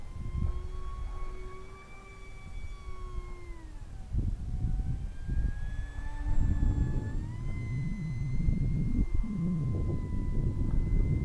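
A Park10 F22 Raptor 320mm twin-motor RC jet flies outdoors in wind, its electric motors whining in a steady tone that bends downward and back up as it passes, with wind rumble underneath.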